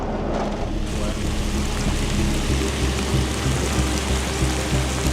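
Heavy rain lashes down hard during a tornado, a dense, steady roar with a low rumble beneath it. The downpour holds at a constant loud level, close by, with no voices over it.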